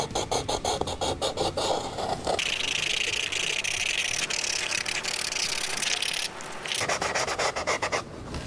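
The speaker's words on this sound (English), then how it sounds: "And after this, you guessed it, more sanding." Continuous abrasive rubbing of a rotary Dremel sanding bit on a wood carving, loud and steady throughout with brief pitch shifts as pressure changes, no talk.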